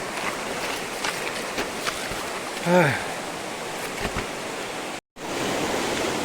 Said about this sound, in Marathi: हे बघा ही आहे आमची नदी नाही म्हटलं तरी पाणी आहे बऱ्यापैकी